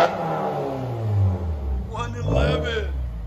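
A Subaru WRX turbo engine with a straight-pipe exhaust, muffler deleted, revs in a loud rising-and-falling growl that swells twice toward the end, with people talking over it.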